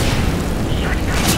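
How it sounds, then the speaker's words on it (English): A Molotov cocktail igniting in Left 4 Dead 2, a loud continuous roaring whoosh and rumble filling the whole short moment, heavy in the low end, with game voices and chatter mixed in. "Throwing a Molotov."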